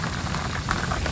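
Torrential rain falls on a farm during buffalo milking, a dense, continuous hiss of downpour filling the short stretch with no voices.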